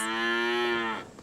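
A cow gives one long, loud, sustained moo close by on a pasture where a new ram lamb is joining a flock, the call fading out at the end.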